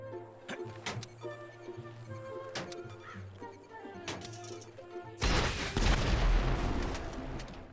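Rocket and C4 explosions go off in GTA 5 around the Journey vehicle: a string of sharp booms and cracks, then a sustained rumbling blast near the end, fairly distant and moderate in volume.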